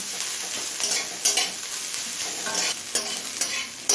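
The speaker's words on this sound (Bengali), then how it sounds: "পেঁয়াজটা হালকা লাল করে ভেজে নিয়েছি" Six small onions frying in a pan until lightly reddened for loti chicken, a steady sizzle broken by repeated scraping stirs at an uneven rhythm, no voices.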